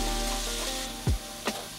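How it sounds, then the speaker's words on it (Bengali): Whole garam masala and sugar sizzle in a generous amount of hot oil in a kadai, a steady close hiss with a brief louder crackle burst partway through. "কড়াইতে এবার একটু গোটা গরম মশলা আর চিনি ফোড়ন দিয়ে"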